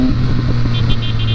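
A light motorbike engine runs steadily close by while the throttle is worked, its revs rising and settling in a continuous buzzing drone, with a faint chirp over the top.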